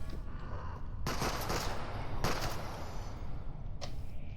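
Gunfire in a video game set in a large research laboratory, heard as three sharp broadband bursts of shots spaced about a second apart over a steady, noisy game background.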